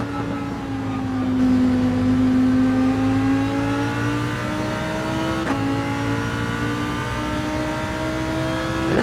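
A Lamborghini Huracan engine in a racing video game at Monza, revving loudly with rising and falling harmonic pitch sweeps as it accelerates through gears, a steady close drone with a brief gearshift blip midway.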